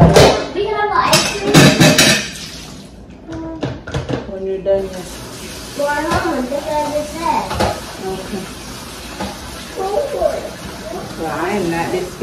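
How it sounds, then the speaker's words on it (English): A pot is washed in a kitchen sink with splashing water and clanking cookware, while someone talks intermittently over the running tap and rinsing. "Now I'm trying to wash the pot."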